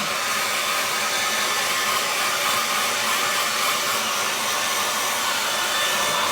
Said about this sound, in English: So let me dry my hair and then I'll explain.